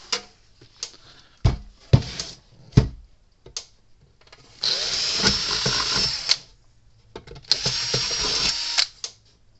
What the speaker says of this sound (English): Drill those out too.